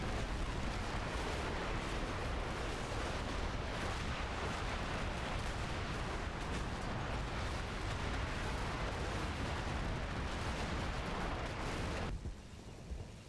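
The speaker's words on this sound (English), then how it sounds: "has got to be the BM-21 Grad rocket system. It makes a lot of noise and is terribly impressive" BM-21 Grad rocket barrage in the Cold War tactical game Combat Mission, a dense, unbroken roar of many blasts rumbling together at high volume for about twelve seconds before dropping off abruptly.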